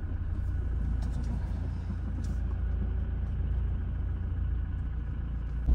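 A car engine idles and rumbles at low, steady volume as the car is eased out of a house driveway, a faint continuous hum with no talking.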